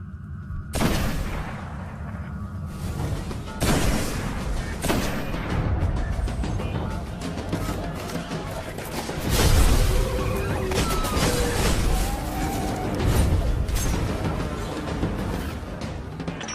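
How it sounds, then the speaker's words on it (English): Dense, loud sci-fi action gunfire, with repeated heavy blasts and bursts of shooting layered over booming explosions, running continuously without a break. "That was a lot of shooting."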